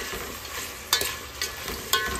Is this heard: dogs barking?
no